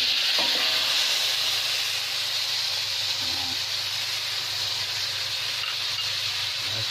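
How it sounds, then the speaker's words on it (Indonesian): Ground spice paste for gulai jangek frying in hot oil, a steady, close, dense sizzle and hiss that holds constant throughout with a few faint clanks of stirring. "di bumbu halusnya kita tuangkan ke dalam minyak sampai halus"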